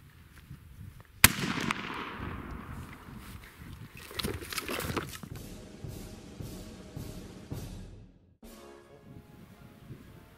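A Mark II Snider short rifle fired outdoors on a range, one sharp loud report followed by a fading echo, then softer scattered thumps and clatter, with no speech.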